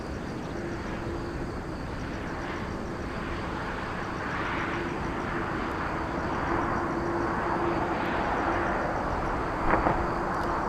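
A Korean Air 787-10 Dreamliner bound for Vienna taxis at Incheon airport, heard as a steady, distant jet engine whine and broad airport rumble that swells slightly over time, with no voices.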